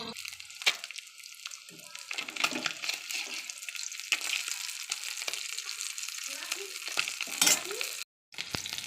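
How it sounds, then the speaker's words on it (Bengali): Fish fry in hot oil in a pan, a steady crackling sizzle with sharper spatters and scraping stirs throughout, moderately close and without talk. "দেখো মাছ সব ভাজা হয়ে গেছে"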